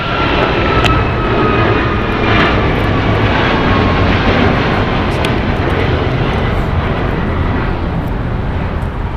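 Alaska Airlines jet taking off from runway 25 left at LAX, a loud, steady broadband engine roar that stays close and dense throughout with no talk over it.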